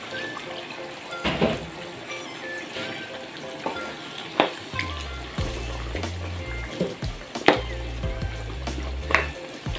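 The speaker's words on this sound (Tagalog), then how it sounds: "Lagyan ko ng konting hot water guys para maluto lang ang ating chicken" Hot water goes into a pan of cooking chicken, bringing up a steady sizzle and bubbling broken by clinks and scrapes of stirring.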